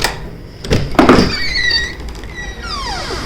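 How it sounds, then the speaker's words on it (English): The front door of a snowy off-grid cabin opens with a solid thunk followed by drawn-out creaking squeaks of the hinges, close and fairly loud, with no talking. "The front door."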